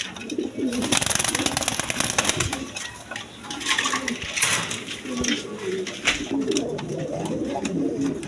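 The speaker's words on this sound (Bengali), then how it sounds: "এইখানে এক পেয়ার কবুতর আছে" Pigeons at a bird market coo repeatedly in soft, rolling calls close by, mixed with a busy background and people talking.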